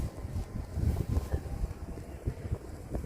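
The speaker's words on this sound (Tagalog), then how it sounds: "Yan, humahangin." Spring wind gusts outdoors in Croatia, buffeting the microphone in uneven low rumbling bursts that rise and fall, with no talk.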